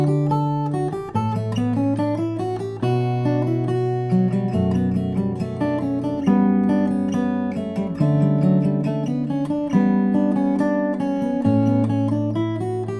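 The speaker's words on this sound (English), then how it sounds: "Now the third time we play the melody, we're going to introduce the 16th note value" Pachelbel's Canon in D melody played in rapid sixteenth notes over a sustained bass line, with ringing notes overlapping in a steady, flowing stream. It is clear and close, with no talking.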